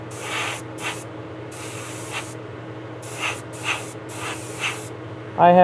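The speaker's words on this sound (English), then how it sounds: "for the ends of the cars, I have to keep it at a lower pressure and spray a little bit at a time" Short bursts from a spray gun laying paint on the ends of a model locomotive car at low pressure, several brief hissing passes with pauses between them, close up, then a faint brief voice at the very end.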